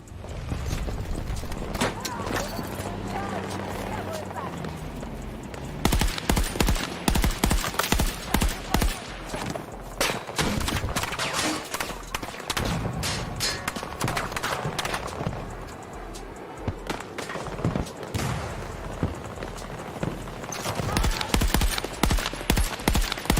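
Rapid gunfire in a video game, with bursts of shots cracking over a busy mix of game effects and someone talking and swearing through much of it.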